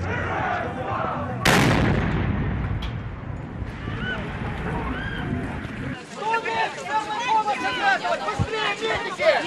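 A sudden, loud bomb explosion in Kharkiv booms and rumbles away near a marching column of about 300 people, then a crowd is heard shouting and talking in agitation.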